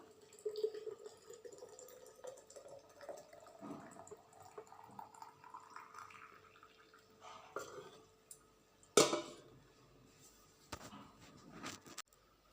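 Sweetened hot drink poured into a flask: a quiet, close trickle whose pitch rises steadily as the vessel fills, followed by a few sharp knocks and clatters near the end.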